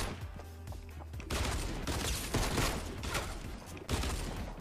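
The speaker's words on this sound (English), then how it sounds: "Crap, three shots." Gunshots in Fortnite crackle in rapid bursts through a busy game mix, fairly quiet overall with several sharper volleys toward the end.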